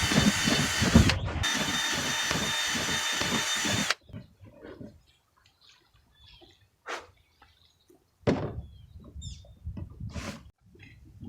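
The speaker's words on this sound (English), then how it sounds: "I just put holes everywhere in the lid to make sure they got plenty of air" Power drill boring holes through a plastic worm bin lid, a loud steady whir with pulsing bite for about four seconds, then quieter clicks and handling noises, ending in a shorter second drilling burst.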